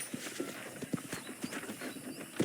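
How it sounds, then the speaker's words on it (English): Horse hooves clip-clop at a steady walking rhythm in the Western video game Red Dead Redemption, the hoofbeats close and distinct over a soft background bed, with no talk during the sound. "I picked out a fine horse for you."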